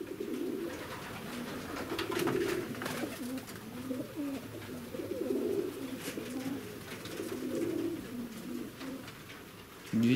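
Racing pigeons coo at their loft in a soft, repeated low rumbling pattern, several birds overlapping at moderate volume with a faint background hiss.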